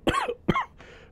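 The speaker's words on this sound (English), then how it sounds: "I still have a cough from it" Two quick, close coughs in succession from a lingering cough after a cold, followed by a softer raspy exhale.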